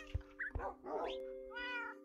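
Cats in Minecraft let out several short meows in quick succession, each a clear tonal cry, over a steady electronic hum from the game, with no talking.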